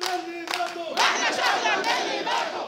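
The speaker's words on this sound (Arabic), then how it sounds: "وتجمعت أصواتهم في هتافات تطالب بإسقاط حكم العسكر" A large street protest march in Egypt, its crowd chanting slogans together in loud, continuous, rhythmic waves of many voices, with a tonal horn-like note early on before the chanting swells.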